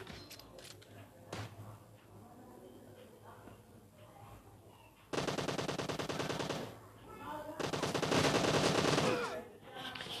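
M762 rifle fire in PUBG Mobile breaks out as two loud sustained automatic bursts after a stretch of quieter background game noise with scattered single shots.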